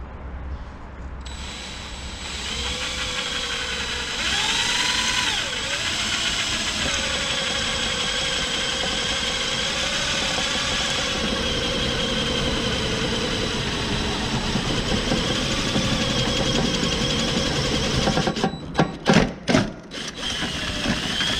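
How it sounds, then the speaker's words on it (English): Power drill boring a hole through sheet metal on a Subaru Legacy during a transmission cooler install: a sustained whining motor drone with shifting pitch, then a few sharp bursts near the end as the bit breaks through. "and then we can drill our hole"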